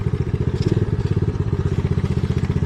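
A pit bike engine, running without an air filter on a wooded trail, sputters and pulses unevenly, a loud, close, rough rhythmic chugging that sounds close to stalling.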